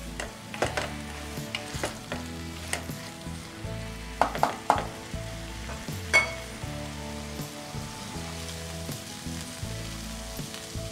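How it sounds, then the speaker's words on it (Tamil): Broad beans (avarakkai) sauté in a hot pan, a steady close sizzle of frying with repeated scraping stirs and clinks of a utensil against the pan, continuous throughout with no talking. "கொஞ்சம் நல்லா அவரைக்காய் வதங்குற வரைக்கும் நல்லா கொஞ்சம் வதக்கணும்."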